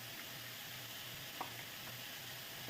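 Chicken asado sizzles steadily in a pan as oyster sauce is poured in, a soft continuous frying hiss with a faint brief splash, heard alone.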